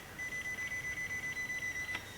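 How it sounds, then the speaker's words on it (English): A Promatic RTM1 receiver beeps in erase mode in a quick, steady series of short high tones, about a dozen evenly spaced pulses, fairly quiet and close. "now you can hear it beeping"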